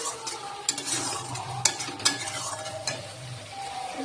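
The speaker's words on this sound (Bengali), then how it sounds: "এবার আমি মশলাগুলোকে ভালো করে নাড়িয়ে নেবো, যতসময় তার তেলটা বেরিয়ে আসবে।" Spices frying in a little oil for a red, spicy mutton curry, stirred with a spoon that scrapes and taps the pan in a few sharp knocks over a soft steady sizzle, close and fairly quiet.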